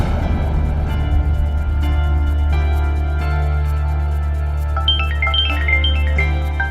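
A mother's call comes in on a mobile phone, and a melodic ringtone plays a short run of rising and falling electronic notes over a steady low hum.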